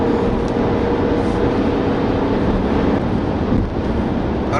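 Steady broadband rushing fills the cabin of a MINI Countryman while driving, wind noise blended with road roar at an even, moderate level and no talking.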